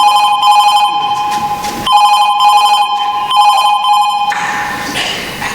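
A telephone rings loudly and close, repeated electronic trilling bursts separated by short gaps, alone with no voices until the ringing stops.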